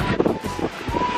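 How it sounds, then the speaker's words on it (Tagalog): Strong outdoor wind buffets a microphone at a city staycation spot in BGC, a loud, continuous rumbling roar with gusty swells, and a faint voice sits underneath. "Malakas ang hangin."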